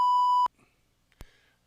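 A beeper gives one sharp, loud electronic tone lasting about half a second, followed by near silence with faint clicks and a brief knock.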